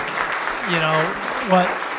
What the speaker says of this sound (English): give everybody a big round of applause of this team